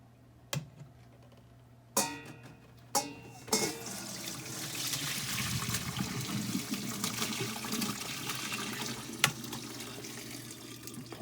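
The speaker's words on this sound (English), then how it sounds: "We'll pour it into a strainer." Cooking liquid simmered with thyme is poured from a pot into a kitchen strainer after a few sharp clunks of handling, then a continuous splashing, trickling flow runs steadily until the end.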